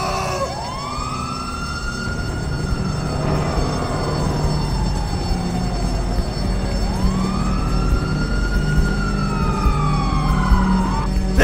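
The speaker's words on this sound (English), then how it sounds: "Oh, it's the ambulance!" An ambulance siren in GTA V, wailing in long rising and falling sweeps that repeat twice over a steady traffic rumble, loud and close.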